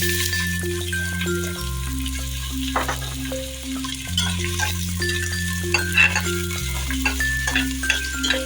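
Chopped onions hit hot oil with whole garam masala spices for chicken biryani, giving a steady sizzle and frying crackle throughout, heard beneath sustained tonal music.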